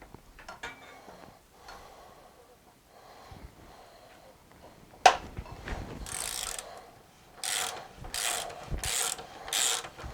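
Ratchet clicking while a motorcycle wheel spindle is undone, short metallic bursts near and loud, with quieter handling clatter before a sharp knock midway.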